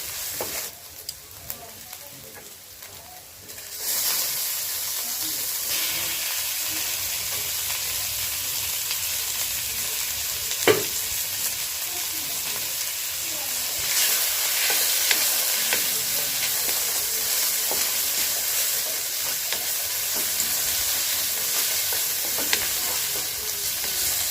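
Pork stir-fries in a small amount of oil in a pan: after a quiet opening a steady, close sizzle sets in and continues, with an occasional clink of the utensil against the pan.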